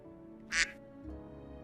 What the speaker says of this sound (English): Duck is curious.